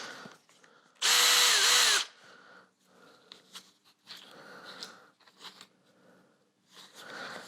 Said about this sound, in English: I will drill a